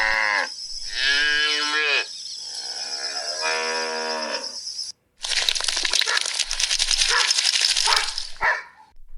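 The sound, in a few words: goats and buffaloes in a farm field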